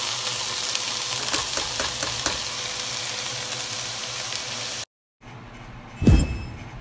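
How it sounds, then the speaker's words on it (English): Meat for spaghetti sauce browns in a hot pan with a loud, continuous close-up sizzle, then a brief break and a single thump as the food is stirred. "I just love the sound of a good sizzle."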